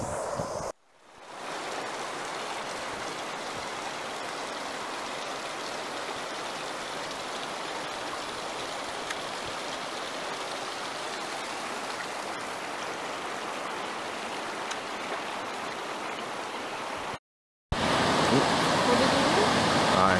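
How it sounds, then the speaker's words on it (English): A small river runs through a forest near Franz Josef, giving a steady, close broadband rush of flowing water that holds even for nearly twenty seconds, broken only by two short silent gaps. "found this wonderful little river"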